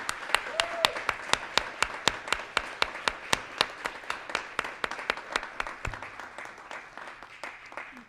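An audience at a community building awards event applauds Dr. Gass and his wife with steady, rhythmic claps in near unison, loud and evenly spaced, gradually fading toward the end.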